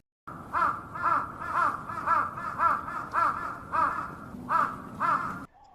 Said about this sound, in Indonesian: terlihat di jendela ada sekumpulan burung gagak yang terbang di sekitar rumah